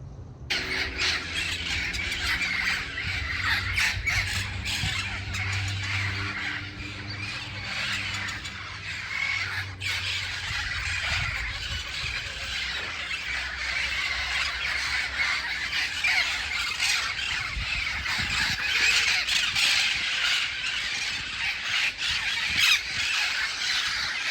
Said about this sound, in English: I forgot to pop in the parrots that we had the other day